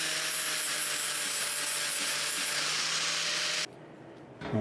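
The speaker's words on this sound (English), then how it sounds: "I'm just going to take the grinder straight over them just to get rid of them" An angle grinder dressing the edges of steel floor panels on a Maserati Mistral under restoration; a steady, loud abrasive whine that runs unbroken, then cuts off abruptly near the end, followed by a brief rattle.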